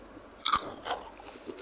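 A crunchy Florentine biscuit, homemade for Hari Raya, is bitten with one sharp close crack followed by a second softer crunch and quieter chewing, with no talking.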